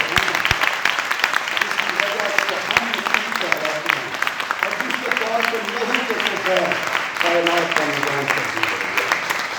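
A church congregation claps through a Christmas celebration, a steady wash of applause running under a voice talking over it.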